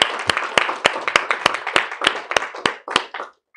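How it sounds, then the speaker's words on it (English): Scattered applause from a small lecture audience at the end of a university database lecture, a few sharp, evenly spaced claps standing out over softer clapping and some voices, ending abruptly. "So let's give a round of applause."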